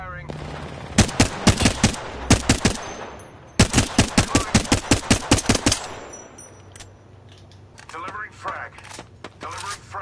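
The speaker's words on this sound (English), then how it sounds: "Shots fired, and they're hitting me." Rapid automatic gunfire in the Apex Legends video game comes in two long, loud bursts of sharp cracks. Quieter shots and game sounds follow, and players talk over the action.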